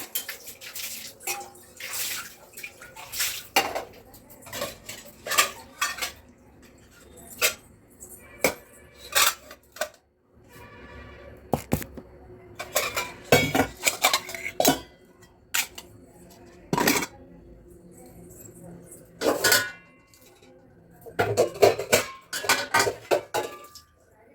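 Freshly washed steel dishes and pots clank and clatter as they are handled and stacked, in scattered sharp knocks and rattles with dripping water between, close and fairly loud.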